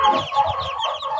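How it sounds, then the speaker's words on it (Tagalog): Ducklings, turkey poults and chicks, some four days old, peep together in a dense, continuous chorus of high chirps, close and fairly loud, with no talk. "Yung mga pato, pabo, at saka manok."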